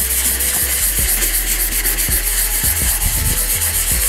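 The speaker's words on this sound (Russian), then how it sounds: "Не люблю шкурку, так что шкурим в меру." Sandpaper rubbing over a wall of Venetian plaster, a loud continuous gritty hiss with rhythmic strokes, close up and with no voices.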